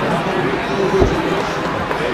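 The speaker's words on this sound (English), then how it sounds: "And you hear the crowd below us reacting." A football stadium crowd at a Division 7 high school championship game between Ishpeming and Pewamo-Westphalia, a steady roar of many voices below with a brief swell near the middle, continuous throughout.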